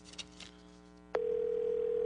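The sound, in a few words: telephone ringing on a call to Homeland Security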